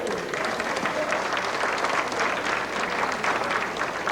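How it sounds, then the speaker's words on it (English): An audience applauds an accordion legend, Pietro Deiro Jr., with a dense, continuous wash of clapping from a large crowd, steady in loudness throughout. "Let's give us an applause to Pietro Dero Jr."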